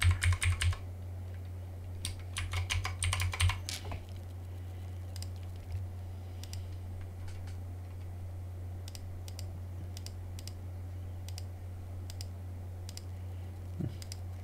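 Password typed on a computer keyboard: a quick burst of clustered key clicks early on, then scattered single taps over a steady low electrical hum, no voices.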